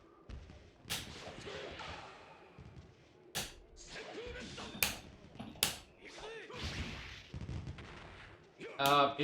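Fireworks from the stage background of the fighting game Samurai Shodown 64, sharp cracks and thumping bursts popping at irregular intervals over a busy layer of game noise.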